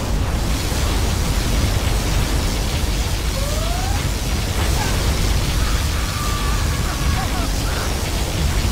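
Particle cannon firing in Command & Conquer Generals, a dense, continuous roaring beam noise that stays loud and steady throughout, with faint tonal sweeps mixed in.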